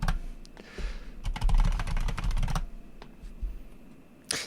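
Fingers tap out a command on a computer keyboard at a Fedora Linux terminal, in close, crisp keystroke clusters with short pauses and one final firm keypress.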